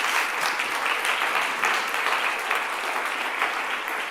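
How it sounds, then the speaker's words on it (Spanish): Church congregation gives a strong round of applause, a thick, steady roar of many hands clapping together, loud and continuous with no speech over it. "Dale un fuerte aplauso al Señor, por favor."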